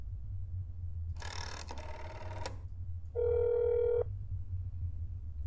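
A phone rings during a call in the video game That's Not My Neighbor: a short noisy electronic burst, then about a second of steady, clear ringing tone over a low background hum.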